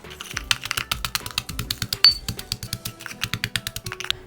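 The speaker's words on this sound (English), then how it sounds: "crush up my biscuits, and I like to use a pestle and mortar for this" Rapid, irregular hard taps and clicks close by, a steady run of small sharp impacts like biscuits being pounded and ground in a mortar.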